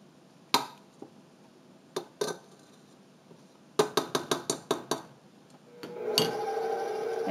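A spatula scraping down a mixing bowl of vanilla krinkle cookie batter, sharp clinks and taps against the bowl, first scattered, then a quick rhythmic run of strikes, ending in a longer scraping rub, close and clear without talk.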